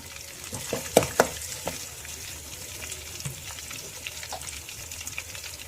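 Curry leaves fry in a pan over a gas flame, giving a soft, steady sizzle with a few sharp crackles and pops early on, then settling into quieter background frying.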